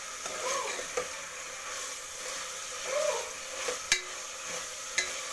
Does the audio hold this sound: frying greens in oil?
yes